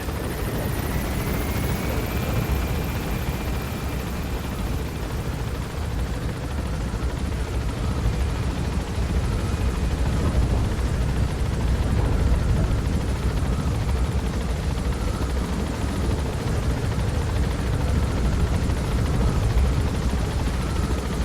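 Helicopter from the video game Metal Gear Solid V: The Phantom Pain, a steady loud rotor and engine drone that holds level throughout, with no talk over it.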